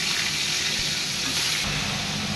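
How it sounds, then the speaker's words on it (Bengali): Salted, turmeric-rubbed fish heads frying in hot oil give off a loud, dense, unbroken sizzle, close and steady throughout. "মাছের মাথাগুলোকে ভেজে নেব।"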